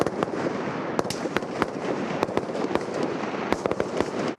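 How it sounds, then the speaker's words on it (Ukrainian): Rapid, irregular cracks of gunfire at a military training range, an assault brigade training, over dense rumbling background noise, shots overlapping continuously from somewhat far off. "На полігоні не стихає стрілянина."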